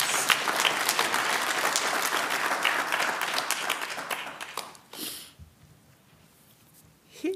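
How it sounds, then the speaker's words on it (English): An audience at an annual memorial lecture gives a loud round of applause that gradually fades, followed by a brief quieter stretch and a final few claps. "I think let's give a round of applause."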